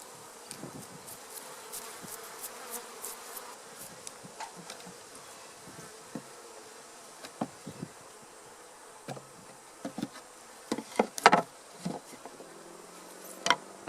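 Dense hum of many honey bees buzzing nearby during a honey harvest, with scattered louder buzzes and soft taps and knocks rising over the swarm.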